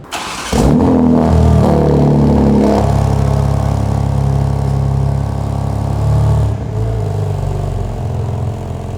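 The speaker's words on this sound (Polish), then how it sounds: "otworzymy sobie klapy, zaczyna to brzmieć całkiem sympatycznie" A tuned BMW M3 G81 Touring engine revs up and settles into a loud, deep, rumbling exhaust idle close by with exhaust valves open, throaty burble throughout.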